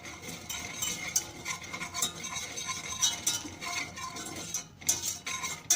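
A spoon scrapes and stirs tarhana being roasted in a metal pot over a gas burner, with light clinks and a faint sizzle, steady and close.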